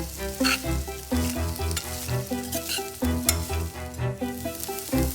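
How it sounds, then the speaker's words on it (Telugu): Flattened rice fries in a little oil in a pan, giving a steady sizzle with stirring sounds under prominent background music, no talk. "ప్యాన్లో వేయించుకుందాము కొంచెం ఆయిల్ వేసుకుందాం లైట్గా వేసుకోవాలి"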